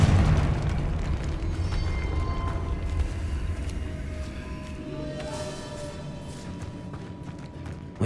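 A Confringo spell explodes in Hogwarts Legacy, a loud deep boom that rumbles and then slowly fades under scattered debris and smaller crackling hits.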